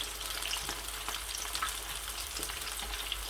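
Chicken wing sticks fry in hot oil with a dense, steady sizzle and scattered pops throughout, close and fairly loud, with no talking.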